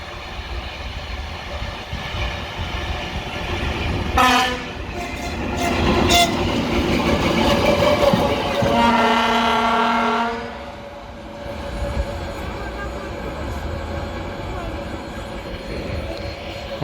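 A diesel locomotive slowly hauling a freight car passes close by, its loud rumble and clatter broken by two short horn blasts, then a longer sustained horn before the noise drops away.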